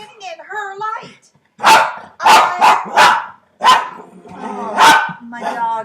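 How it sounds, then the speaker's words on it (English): Several household dogs bark in a burst of loud, close barks in quick succession, mixed with high yips and whine-like tones. "My dogs are flipping out."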